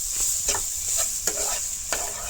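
Salted peanuts frying in ghee in a pan crackle softly under a constant hiss while a spoon scrapes and stirs them in several distinct strokes, close up with no talking.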